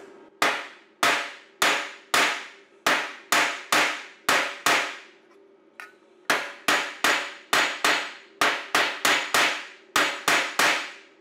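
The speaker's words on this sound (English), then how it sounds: "So we just stretch it back out with the hammer and dolly." Sharp metallic hammer blows on a dolly against sheet steel ring out in quick regular strikes, about twenty in all, with a brief pause midway, close and loud.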